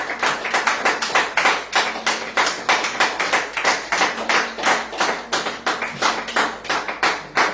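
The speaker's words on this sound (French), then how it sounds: "Nous applaudissons le roi des rois." A church congregation claps together in a regular rhythmic beat, strong and evenly spaced, with a faint low tone running beneath the claps.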